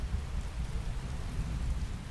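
Steady rain falling in the Fallout 4 game world, a dense, even hiss of drops with a low rumbling undertone, constant and fairly loud throughout with no talking.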